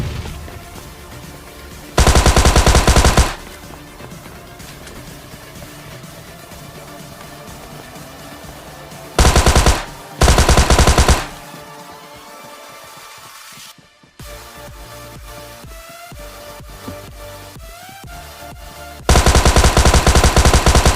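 Automatic gunfire in PUBG Mobile Lite comes in loud, dense bursts: one around the start, two close together in the middle and another at the end, with quieter in-game ambience between and no talking.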